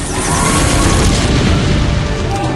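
A siege tank shell explodes in a StarCraft match, a loud, dense boom that fills the whole stretch with sustained low rumble and crackling debris, with no talk over it.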